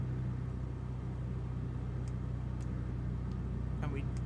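A light aircraft engine idling at low throttle in Microsoft Flight Simulator 2020 gives a steady, even low drone that holds without change throughout.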